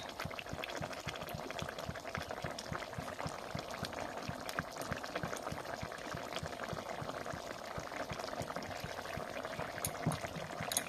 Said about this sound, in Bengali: একটু ফুটিয়ে নেব।